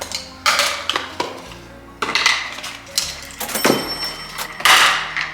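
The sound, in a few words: camping bowls being handled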